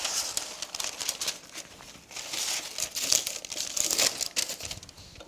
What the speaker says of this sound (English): with your second piece, we just do the other sides so that all 4 sides have a paper lining.